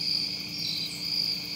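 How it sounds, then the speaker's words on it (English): Crickets chirp at night outdoors during a youth deer hunting weekend in Baja, a steady, high-pitched trill that continues unbroken at moderate volume with nobody speaking. "we heard lots of crickets"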